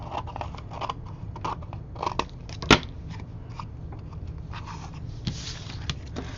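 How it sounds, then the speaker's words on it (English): Quiet, repeated snips of scissors cutting through paper at close range, irregular in rhythm, with one sharper crackle partway through. "And then flip it over and cut off the extra."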